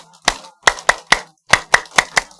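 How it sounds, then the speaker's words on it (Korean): Rhythmic group clapping at a church school gathering, sharp synchronized claps in a pattern of three then four, loud and close with silence between the beats. "집중박수 시작."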